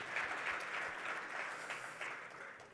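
Conference audience applauding steadily throughout, a dense wash of many hands clapping in a hall with no voices over it.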